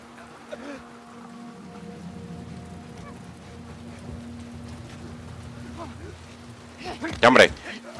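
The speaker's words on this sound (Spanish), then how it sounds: "Era el efecto de la lluvia" Rain falls in The Last of Us Part 2, a steady soft hiss of drops under a faint low hum throughout, with a brief louder splashy burst near the end.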